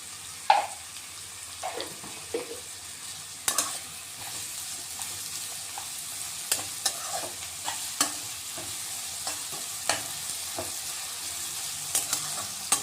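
Chopped onions with salt sizzle softly in a pan while a spoon stirs them in regular scraping taps every second or so, close and moderately quiet, with no talking.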